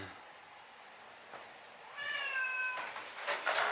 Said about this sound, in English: And my cat wants a ride again.